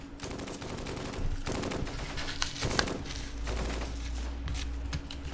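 Dense machine gun and rifle fire from a Close Combat: Gateway to Caen multiplayer battle, with steady bursts of rapid shots and a continuous crackle of gunfire running throughout at a moderate level.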